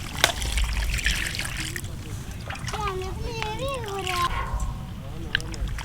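Raw mutton washed by hand in water, with trickling, sloshing and splashing throughout, close and moderately loud, while people talk over it.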